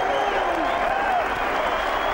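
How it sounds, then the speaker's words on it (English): A golf gallery at the 2006 Ryder Cup applauds steadily for Tiger Woods, a dense wash of crowd clapping heard from a distance and sustained throughout, with speech mixed in underneath. "Just listen to the crowd, Jay."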